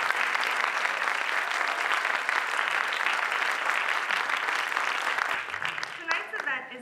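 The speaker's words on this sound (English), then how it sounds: "Please give your applause to Babak for his hard work." A concert audience at a Persian and Azeri music event applauds in a dense, sustained wash of clapping that thins out near the end as a voice begins to speak.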